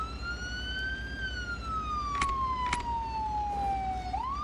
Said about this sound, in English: Let me turn off the siren so you guys can hear me better.